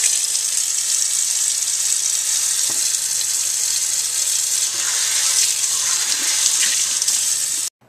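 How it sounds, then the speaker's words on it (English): Tap water gushing steadily into a classroom lab sink as a cup is rinsed, a loud continuous hiss with faint knocks, stopping sharply at the end. "rinse your cup out right at the sink"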